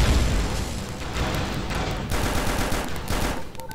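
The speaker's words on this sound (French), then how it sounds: "on entend les balles retomber au sol" Rapid gunfire rattles in a shooting video game, dense bursts of shots continuing steadily with the faint patter of spent shells dropping to the ground, no talking.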